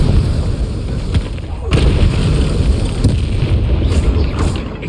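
Confringo blasting curse in Hogwarts Legacy bursts with a loud, close boom, followed by a rumbling explosive wash and a second heavy impact, with a voice heard alongside.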